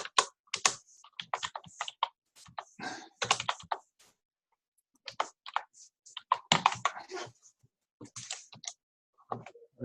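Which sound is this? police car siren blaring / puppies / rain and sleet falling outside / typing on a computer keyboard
typing on a computer keyboard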